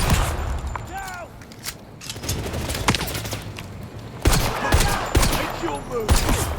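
Gunfire from the video game 007 First Light: bursts of rapid shots and sharp single cracks, loud and close, repeating throughout, with brief voice lines from game characters between the volleys.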